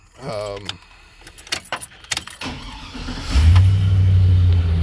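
Keys jangle and rattle in the ignition, then a car engine cranks, catches and settles into a loud, steady, slightly lopey idle close by, with a voice briefly audible early on.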